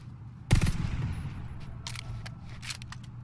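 Gunfire in the video game The Division 2 opens with a sharp close burst, then fades into scattered, more distant shots and brief rattling bursts over a low background rumble.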